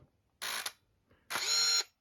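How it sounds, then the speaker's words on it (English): A Canon Sure Shot Supreme 35mm compact camera fires twice, each release a short whirring mechanical burst of shutter and motor winding, close and clear against silence. "I'll operate the shutter."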